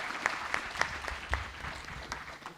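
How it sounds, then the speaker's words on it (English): Audience applause for panelists at a Kenya investment learning event in 2023: a few scattered, distinct claps ring out over a low hall murmur, spaced irregularly and fading to a thin patter. "please give them a round of applause as they go back to their seats."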